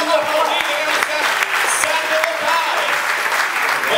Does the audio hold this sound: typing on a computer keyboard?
no